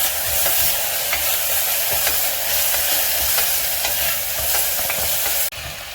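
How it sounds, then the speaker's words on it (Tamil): Tomatoes and onions sauté in a pan for South Indian-style mutton soup, a loud steady sizzle and crackle with occasional stirring scrapes, the frying noise cutting off abruptly near the end. "கொஞ்சம் தக்காளியும் போட்டுடலாம். அதையும் லைட்டாக சாட் பண்ணுங்கள்."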